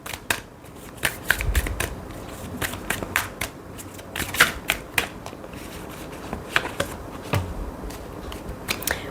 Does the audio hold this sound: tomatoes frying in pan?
no